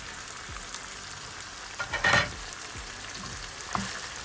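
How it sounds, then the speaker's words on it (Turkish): Peppers sauté in a pan, a soft continuous sizzle with a few stirring scrapes and clinks, one louder flurry in the middle, no voices. "Biberlerim de güzelce kavruldu."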